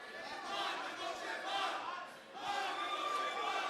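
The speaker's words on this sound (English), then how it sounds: "The crowd chanting, telling Mehmosh to get him." A crowd at an MMA title fight chants and roars in rhythmic surges, dipping briefly before rising again, filling the arena in the background.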